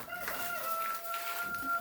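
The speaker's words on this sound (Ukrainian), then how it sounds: "Це оце, оце шустренький півник." A young cockerel crows on a farm, a steady drawn-out call with clear harmonic lines held across nearly two seconds, fairly close and alone with no talk.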